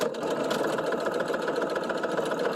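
A sewing machine back stitches the seam of a mitten, its motor running in a loud continuous whir with a fast steady needle rhythm close by.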